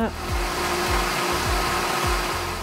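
Countertop blender whirring through garlic, onion, jalapeno and olive oil, a loud steady motor drone with repeated dips and surges in pitch as the contents churn, close and continuous without talk.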